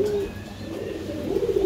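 A pair of young Pakistani teddy pigeons coos softly and close by in a low, drawn-out tone, with a brief pause before a second, fuller coo.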